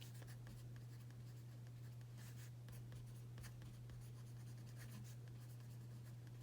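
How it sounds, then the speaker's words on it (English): A pen writes by hand in a book, soft scratchy strokes in short irregular bursts, close and faint over a steady low electrical hum. "I want to write that out real quick"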